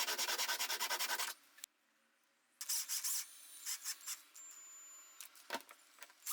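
Wood block, 1 cm thick and 3 cm square, rubbed against a screw-mounted sandpaper disc: a long burst of steady scratchy rubbing, a short pause, then shorter irregular strokes up close with no talking.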